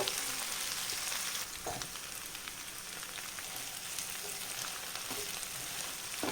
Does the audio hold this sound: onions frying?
yes